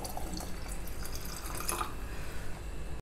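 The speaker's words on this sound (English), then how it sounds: "Top it up with more water." Water splashes and trickles into a pot of rasam with cooked dal, a close, steady pouring with small drips and bubbling, no talking.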